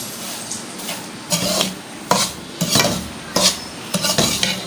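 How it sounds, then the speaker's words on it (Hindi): A spoon scrapes and stirs semolina roasting on low heat in a pan for panjiri, irregular close clinks and scraping strokes against the metal over a soft sizzle. "चमचा में चलाती रही मुसलसल।"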